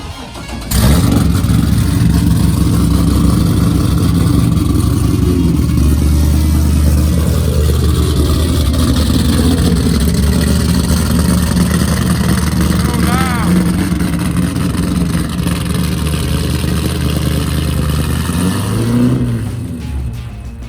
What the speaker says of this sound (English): I forgot just how rowdy this car sounds.